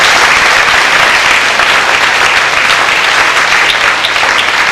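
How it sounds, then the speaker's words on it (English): A middle school awards banquet audience gives a steady, loud round of applause for the tech assistants, dense clapping that holds without a break. "let's give our tech assistants a nice and rousing round of applause"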